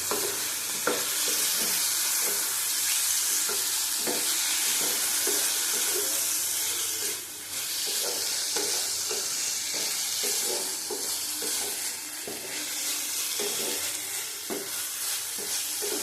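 Chicken filling for wheat-flour momos fries in a pan with black pepper, a loud continuous sizzle layered with repeated scraping and stirring strokes over the whole stretch.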